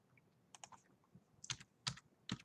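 Someone types a password at a computer keyboard while registering on a website; a few quiet, close key taps come in small uneven bursts with short pauses between them, with no talking.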